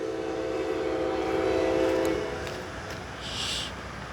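A CSX freight train nearing a railroad crossing in Jacksonville sounds a loud, sustained horn that fades after about two seconds, followed by a rumbling rail roar and a short high-pitched squeal.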